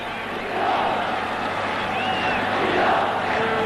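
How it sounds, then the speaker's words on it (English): Football crowd at an Iran versus China World Cup qualifier roars in a sustained, loud wave of cheering after a shot flies just over the bar, the din swelling and holding steady throughout. "And that has certainly lifted the crowd."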